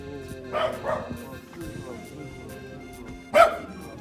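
A dog barks a couple of times nearby in a village in Kabardino-Balkaria, with short sharp yaps over a low background hum.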